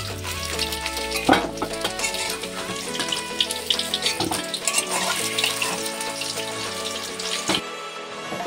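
Spiced potato pieces, cut like curry potatoes, fry in oil in a pan for an egg and potato dish, giving a steady, dense sizzle that stays close and fairly loud throughout with no talking.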